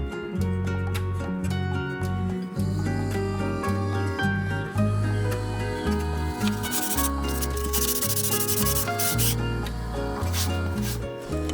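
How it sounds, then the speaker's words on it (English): Plywood pantry shelves being sanded, a continuous rough scraping and rubbing that stays loud and close throughout with a steady, humming undertone. "I sanded the shelves and used wood filler on any loose seams"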